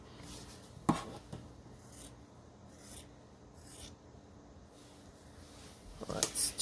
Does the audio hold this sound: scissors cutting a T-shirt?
yes